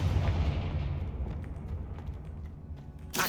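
A heavy, booming blast from the Confringo explosion spell in Hogwarts Legacy during a fight at a goblin outpost, loud at the start and slowly rumbling away, with a sharp burst at the very end.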